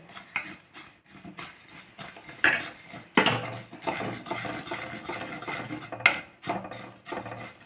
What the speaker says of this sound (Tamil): இப்போ நம்ம இந்த ஓமத்தை லைட்டாக வறுத்துக்கலாம்